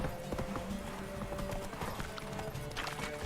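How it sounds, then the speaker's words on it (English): Horse hooves clip-clopping at a gallop during a horse race in The Witcher 3 video game, a busy rhythmic pounding layered with whinnies and dense game ambience. "I don't like the horse racing in this game"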